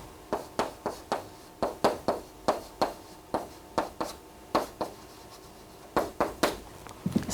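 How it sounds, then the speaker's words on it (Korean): Chalk or marker writing an example on a classroom board, heard as a quick series of sharp taps and short scratchy strokes in an uneven rhythm, close and fairly loud, with no talking. "쉬운 example 한번 써볼게요."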